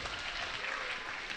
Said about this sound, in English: That's the clapping behind us as West gets to the finals with a semifinal